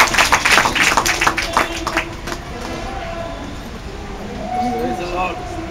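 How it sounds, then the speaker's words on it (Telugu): A church congregation claps loudly in a burst of quick, close, rhythmic claps lasting about two seconds, then fades into a voice speaking over faint background sound. "గట్టిగా చప్పట్లు కొట్టి ప్రభు నామాన్ని మహిమపరుస్తాను."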